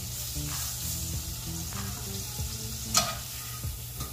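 Flour-coated pork chops sear in a hot pan, a steady close crackling sizzle with small pops throughout and one sharper spatter near the end, no voices.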